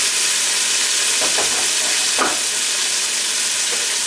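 A chile mixture fries in hot avocado oil with a loud, close, continuous sizzle and hiss, broken by a few brief stirring scrapes.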